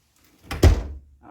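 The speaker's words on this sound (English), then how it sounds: "And shut the door." A door is pushed shut with a single close thud, preceded by a soft swing and followed by quiet.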